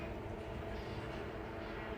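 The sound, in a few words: passenger train moving through Shu station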